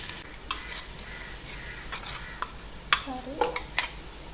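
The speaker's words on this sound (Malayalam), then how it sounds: "ബാക്കിയുള്ള ഉള്ളി കേട്ടോ ഇത് ഇനി ചതച്ച് വെച്ച് കൊടുത്ത ഇഞ്ചി പച്ചമുളകും വെളുത്തുള്ളി ഇട്ട് കൊടുക്കട്ടെ" Onion, ginger, green chili and garlic fry in oil for Malappuram-style biryani, a quiet steady sizzle broken by spoon stirs and scrapes against the pot, with brief soft voices in the background.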